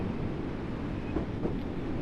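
Train rumbling steadily along in Train Sim World 4 on the Isle of Wight 2022 route, a constant low droning roll with faint rail noise and no talking.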